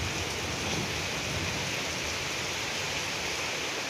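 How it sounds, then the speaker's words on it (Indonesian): Heavy rain pours down in a steady, dense hiss that stays loud and unbroken throughout, with no voices. "hujannya terlalu besar guys"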